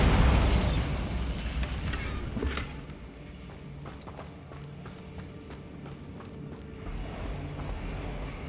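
Bombarda blasting spell cast in the video game Hogwarts Legacy, a loud booming explosion at the start that decays into rumbling debris and scattered clatter, then quieter ambience with small ticks.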